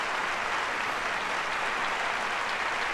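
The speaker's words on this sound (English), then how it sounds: "I noticed they didn't give them separate applause times." Dense, steady applause from a debate hall audience greets the two presidential nominees, a continuous roar of clapping with no voices over it.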